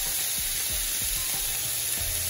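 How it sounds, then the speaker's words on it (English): Sausage sears in a hot pan for okra and tomato with shrimp, giving a steady loud sizzle with a few soft scraping stirs and no talking. "we're going to sear our sausage"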